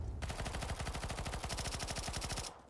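Rapid automatic gunfire from Counter-Strike 2 rattles out in one loud, continuous burst of evenly spaced shots for about two and a half seconds, then cuts off abruptly.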